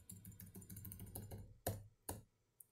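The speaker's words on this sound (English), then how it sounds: "Oh my god, that was direct contact with the keyboard." A cat treads across a computer keyboard, a quick run of soft key clicks followed by two sharper, louder key presses and a faint final tap, close and alone.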